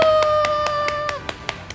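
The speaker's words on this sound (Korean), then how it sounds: "박수." Hand claps in a studio show, sharp single claps repeating at a steady rhythm over a sustained musical tone that cuts off partway through, with the claps continuing to the end.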